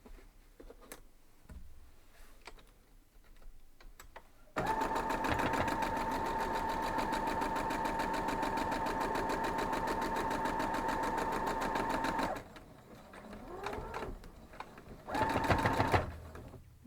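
A sewing machine stitches a quilt block seam in one steady, continuous run of rapid mechanical ticking for about eight seconds, followed by quieter handling sounds and a brief second burst.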